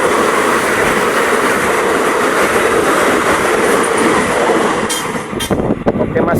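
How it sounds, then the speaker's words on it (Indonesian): Two airport trains roll past on a railway line at a level crossing, a loud, steady rumble of wheels on track that holds for several seconds before thinning out into sharp clacks near the end. "kereta bandaranya dua-duanya sudah lewat ya"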